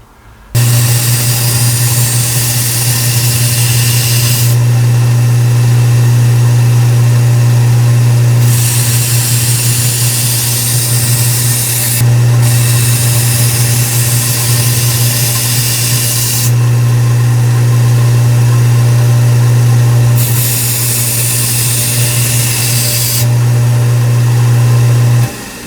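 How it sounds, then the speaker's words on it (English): A Kalamazoo 1x42 multi-position belt sander grinding a knife blade gives a loud, close, continuous motor hum with a steady drone, the grinding noise swelling and easing in alternating stretches. "Love that it's a multi-position belt sander, so it can be operated vertical or horizontal"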